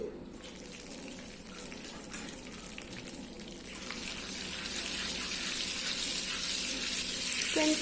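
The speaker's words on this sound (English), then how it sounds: "I am going to add nearly 20 gram of butter and 3 teaspoon of oil" Butter and oil heating in a pan for butter chicken, a quiet hiss that builds steadily into a louder, bright sizzle as the fat melts and warms.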